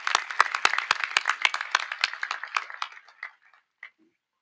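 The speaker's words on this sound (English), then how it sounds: "Let's give Travis another round of applause for that accomplishment" A modest crowd at an eighth grade promotion ceremony applauds a graduating student. The clapping is sharp and fairly close, and it thins out to a few scattered claps before fading after about four seconds.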